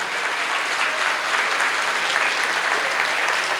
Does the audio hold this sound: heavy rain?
no